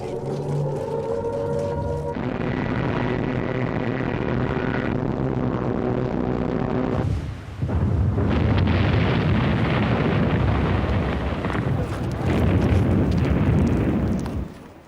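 Bombing of Malta in an early 1941 Luftwaffe air raid: loud, rumbling blasts and a roaring wash of explosions fill the scene, with a droning tone at the start and surging bursts later.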